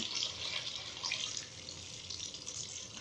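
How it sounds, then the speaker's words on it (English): Water sprays in a steady rushing hiss, close by, with slight surges and no talking. "And the water is spraying on me."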